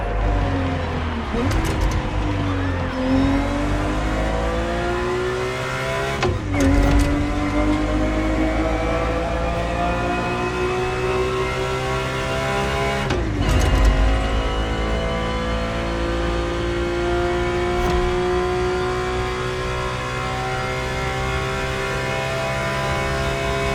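A Ferrari 365 GTB4 in the racing game The Crew Motorfest revs steadily, its engine note rising through the gears with brief dips at each shift, a sustained loud drone under a narrating voice.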